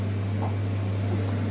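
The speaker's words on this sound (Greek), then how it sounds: "Αυτό που ακούτε είναι ο απορροφητήρας." A kitchen range hood extractor fan runs with a steady, even whooshing hum and a low drone that hold constant the whole time.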